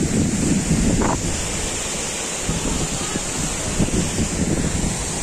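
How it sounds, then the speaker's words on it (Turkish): A waterfall fed by spring water pours over lava rocks on Karacadağ, a constant broadband rushing roar close to the microphone with some wind buffeting and no talking. "Karacadağ'da gelen kaynak suyuyla oluşan bir şelale."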